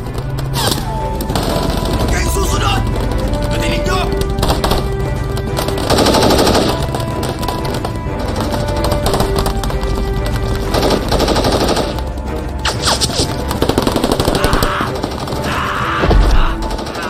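Machine-gun fire and gunshots crackle in loud, sustained bursts through a war scene in a 2014 Filipino film about rebel fighting, with voices shouting over the shooting.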